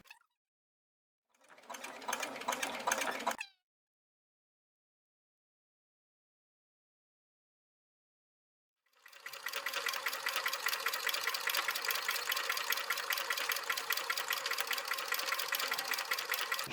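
A sewing machine stitches a zigzag seam along fabric, with a brief burst of rapid stitching, then a long silence, then a sustained, even run of steady rhythmic needle chatter.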